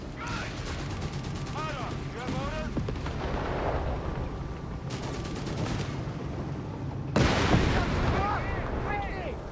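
Artillery booms and gunfire crack through a Company of Heroes 3 battle, with repeated heavy impacts and rattling bursts, the loudest volley hitting near the end, all under continuous talking.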